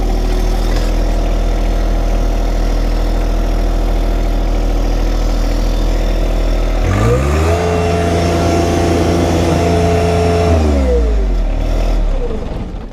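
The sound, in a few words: John Deere 1025R tractor engine revving while trenching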